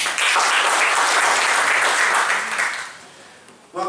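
Dense applause from an event audience fills the room at full strength, then tapers off toward the end before a brief burst returns.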